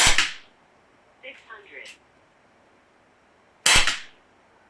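Umarex Notos PCP air rifle shooting 21 grain pellets in a backyard: two sharp, loud cracks several seconds apart, each fading quickly, with a brief spoken word in the quiet gap between them.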